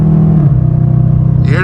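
Car engine with paddle shifters holding a loud, close rumble that drops in pitch as the gear changes, then rises into a fresh rev at the end, with no talking over it.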